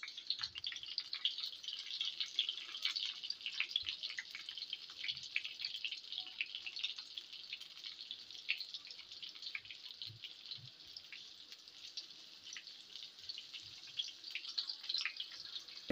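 Stuffed eggplants fry in hot oil with a steady, fine crackling sizzle that keeps going evenly throughout at close range, with faint scattered knocks underneath and no talking.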